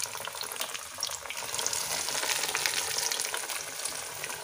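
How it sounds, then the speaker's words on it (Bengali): Fish cutlets sizzle steadily in hot oil, a dense continuous frying crackle that holds at an even level throughout, close by, with no voices. "তেলটা গরম করে আমি ভাজার জন্য ছেড়ে দিচ্ছি।"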